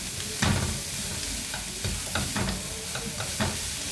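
Vegetables for chicken chilli noodles sizzle in a pan as they are stir-fried, with a continuous frying hiss and repeated scraping strokes of a utensil, close up.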